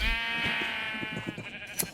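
Sheep bleating in the modded Urban Sprawl game, a wool factory with white and grey sheep kept in an enclosure. There are several overlapping bleats, near and fairly loud, and a sharp sound comes at the end.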